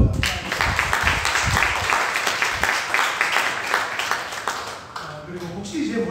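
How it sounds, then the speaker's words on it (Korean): Church congregation applause after a meal announcement, a dense steady patter of many hands clapping for several seconds, tapering off near the end with a voice faintly underneath. "우리 큰 박수로 감사합니다."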